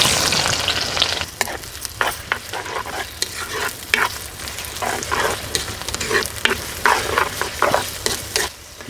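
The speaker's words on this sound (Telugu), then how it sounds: "చూసారండి ఉల్లిపాయలు ఈ విధంగా బాగా బ్రౌన్గా వేగిన తర్వాత" Sliced onions fry and sizzle in a pan for chicken sherva, a steady close crackle with repeated scraping stir strokes and no talking.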